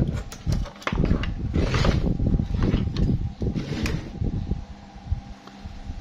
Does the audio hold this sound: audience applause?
no